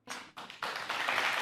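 Studio audience in a TV show breaking into clapping, starting with a few scattered claps that quickly swell into dense, steady applause, moderately close and without talk.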